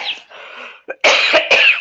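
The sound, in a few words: cough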